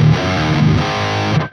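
Electric guitar played through a Soldano SLO 100 amp plugin with its built-in compressor engaged, a loud, distorted, heavily compressed sustained chord that cuts off abruptly at the end.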